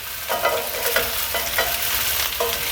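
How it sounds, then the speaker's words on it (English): Meatballs sizzle and crackle as they brown in a hot frying pan, with a few scraping stirs recurring at a loose rhythm, close up and without voices. "I'm going to brown the meatballs in a frying pan"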